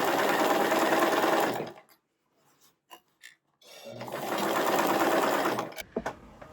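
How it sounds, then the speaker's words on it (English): An electric sewing machine stitches scrap fabric for a bucket bag in two close, loud continuous runs, separated by a pause filled with light handling clicks and rustles. "I'm gonna sew this circle"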